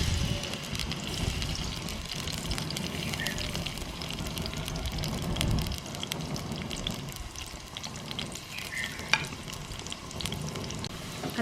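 Onions sizzling and frying in half a cup of oil while being stirred, a continuous soft crackle with scraping stirs, fairly quiet and close, with no talking.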